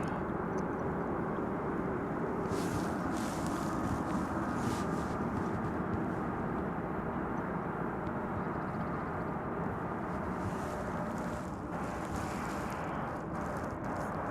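American Airlines flight 1595 from Austin arrives on runway 18 Left at DFW Airport. Its engines make a steady, broad jet roar that carries through the whole stretch, heard from a distance without any voices.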